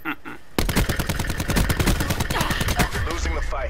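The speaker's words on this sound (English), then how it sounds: "I was being shot from all angles" Rapid automatic gunfire in Call of Duty: Black Ops 4, a dense burst of shots starting after a brief quiet lead-in and continuing loud and close, layered with sustained firefight noise.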